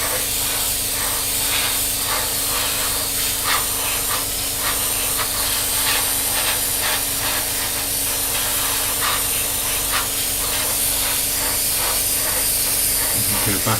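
Airbrush hiss from spraying paint onto a Tamiya 1/48 F-16 Falcon model wing, a steady, close, continuous spray with faint pulsing as paint builds up in slow passes.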